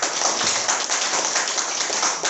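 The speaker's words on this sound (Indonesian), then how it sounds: "Tepuk tangan dulu dong" An audience clapping in a steady, dense wash of applause that holds at an even level throughout.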